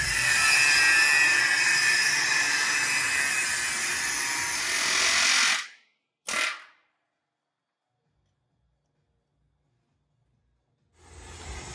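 A loud steady hissing, grinding cut takes the rivet heads off a 1956 Chevy frame, running for about five seconds, then a short burst, followed by silence before the noise starts again.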